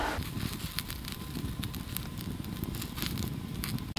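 Campfire crackling outdoors in snowy blizzard conditions, with steady fire roar and scattered pops and snaps throughout, mixed with wind noise on the microphone, no talking.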